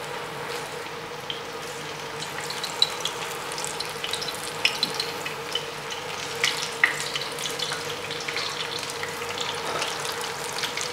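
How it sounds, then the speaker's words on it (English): Spring rolls deep-frying in hot oil at home, with a steady broadband bubbling sizzle and occasional sharp pops and crackles running continuously, fairly close and even in level with no talking. "So you put the spring roll in."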